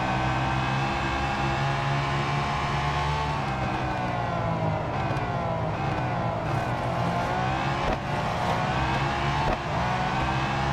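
Race car engine in the Real Racing 3 video game, a loud continuous drone that rises and falls through gear shifts, with occasional faint tire squeal.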